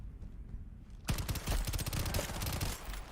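Rapid automatic gunfire erupts suddenly after a quiet stretch in the shooting range of the video game Shatterline, with a dense burst of loud shots that runs continuously to the end.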